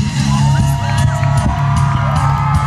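Crowd at a BMX stunt demo at the 2013 State Fair of Texas, cheering and whooping steadily and loudly throughout, with yells rising over a dense outdoor din.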